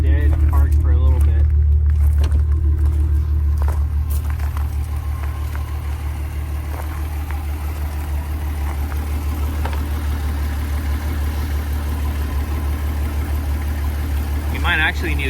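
A VR6 engine in a Mk4 Volkswagen Jetta, after sitting parked for a while, runs at a steady low idle, a continuous deep rumble with slight variation, close and fairly loud.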